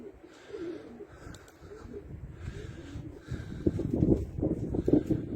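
Performance pigeons coo softly outdoors in a gusty wind, the low murmuring calls swelling louder toward the end over a steady rumble of wind noise.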